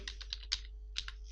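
Typing on a computer keyboard while entering a MySQL database command, a quick run of close, crisp key clicks in two bursts with a short pause between, no talking.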